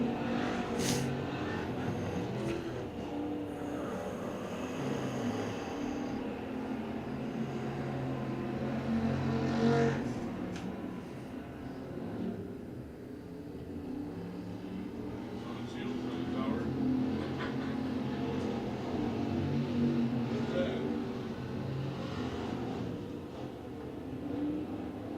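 Race cars circle Penn Can Speedway, their engines droning and swelling as they pass, heard from a distance under an announcer's continuous commentary.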